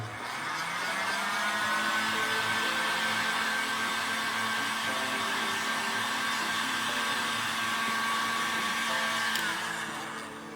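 A heat gun blows steadily at close range while drying the surface of motorcycle riding gear, its airy whine holding even for about ten seconds before cutting off near the end.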